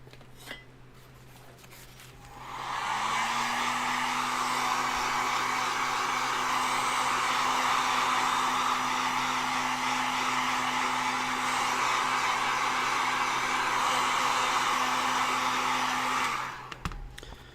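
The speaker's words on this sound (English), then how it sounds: "Let's get some heat on this." Heat gun warming a mask part to shape it, switching on with a loud, steady blowing roar and motor whine that holds for about fourteen seconds before cutting off.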